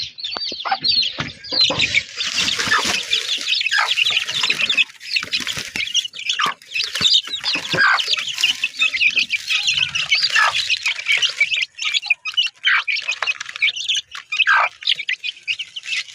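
A flock of chickens feeding on scattered feed in the dark, clucking and chirping busily and continuously up close, with many overlapping calls and pecking sounds; no talking.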